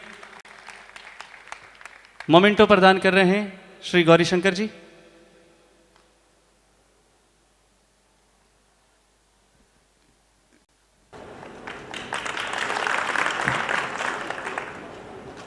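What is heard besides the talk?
audience applause during an award felicitation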